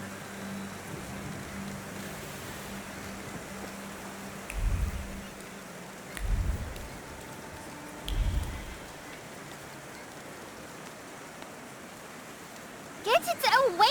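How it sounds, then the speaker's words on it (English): Rain falling in the video game The Thaumaturge, a soft, steady hiss of rain throughout, broken by a few dull low thumps at intervals and a brief burst of sound at the end. "And now it starts to rain."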